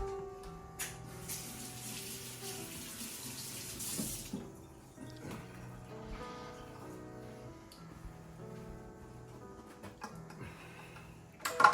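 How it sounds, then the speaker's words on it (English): A kitchen tap runs as hands are washed under it, with a hissing water stream at first, then softer splashing and clinks of items nearby at low volume. "Let me wash my hands."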